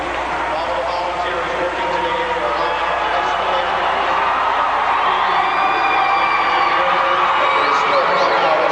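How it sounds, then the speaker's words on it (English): A crowd cheers at a high school hockey game between New Trier and Marist, a continuous murmur of shouts and whoops with a commentator talking over it. "Cheering on the friends."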